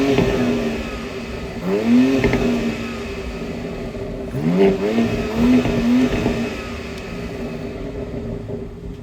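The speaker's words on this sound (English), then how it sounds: "Let's take this X3M competition out on the road and see how it drives." A BMW X3 M Competition accelerates hard on the road, its engine revving up in two rising surges that drop back between shifts, heard loud and close.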